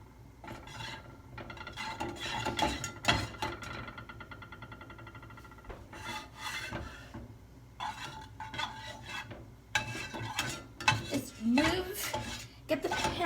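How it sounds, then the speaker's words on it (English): A spatula pushes melting butter around a pan, giving uneven scraping and rubbing strokes with metallic clinks in bursts, close by, with faint talk in places. "Now drop it into the pan, go one spatula, and start moving it around"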